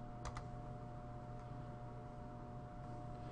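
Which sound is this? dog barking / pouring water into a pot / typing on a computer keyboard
typing on a computer keyboard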